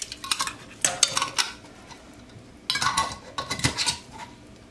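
Lids going onto leftover canning containers make close clinks and metallic clatters in several quick bursts, with quieter handling between them.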